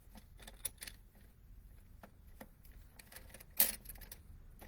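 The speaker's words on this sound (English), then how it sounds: "It kind of sounds like something's clicking." A loosely screwed-in part is turned by hand, giving a series of small, faint, irregular clicks and ticks. One sharper, louder click near the end sounds against a quiet background.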